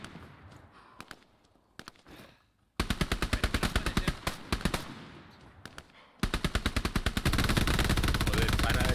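Gunfire in the World War II shooter Hell Let Loose: scattered single shots at first, then long rapid bursts of machine-gun fire, loud and close, with a sustained volley near the end and faint voices underneath.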